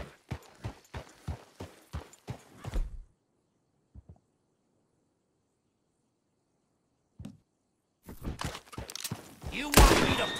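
Horse hooves clip-clopping in Red Dead Redemption 2, a quick series of sharp hoof strikes that stops into near silence, followed by a few isolated knocks and a burst of louder clattering at the end.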